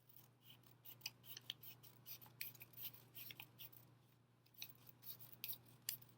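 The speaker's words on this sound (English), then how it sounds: "So you're going to take this pile, cut it in half again." Scissors cut through a pile of paper in a quick run of crisp snips and rustles, close but quiet, with short pauses between cuts.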